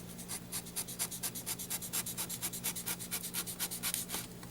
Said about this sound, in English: now take my knife, it's at an angle, and using a sawing motion,